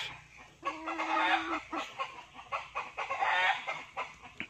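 A gamefowl broodcock rooster clucks on a breeding farm, a series of close, fairly loud throaty clucks and short calls in an uneven rhythm, heard alone with no talk.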